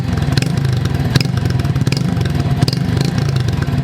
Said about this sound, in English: the exhaust note is very different than other bikes in this segment